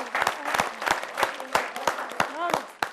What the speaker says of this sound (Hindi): जरा तालियां बजाइए।